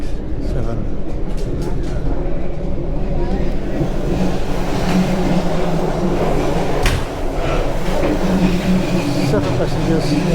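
The Argo Parahyangan passenger train carries on toward Bandung in the steady low rumble and rattle of a carriage in motion, continuous and close with faint creaks. No one is talking.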